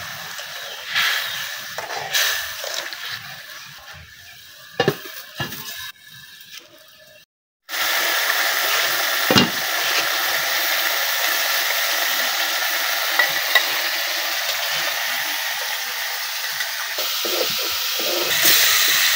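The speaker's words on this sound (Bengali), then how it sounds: "মশলাটা সুন্দরভাবে কষানো হয়ে গেছে।" Spiced masala frying with mrigal fish and green banana sizzles and hisses in a pan, with scattered stirring clatters; after a brief cut the frying returns louder and steady, close up, with no talk.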